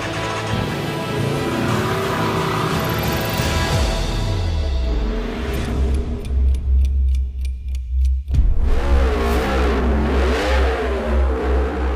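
A Griiip G1 race car in a virtual race: its engine rises in pitch under acceleration, drops sharply on a gear change, then climbs again with loud, steady revving.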